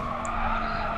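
Tyres squeal steadily as a car slides through a corner in the racing game GT Sport at Dragon Trail Seaside, a continuous skidding hiss over engine drone, lasting about a second.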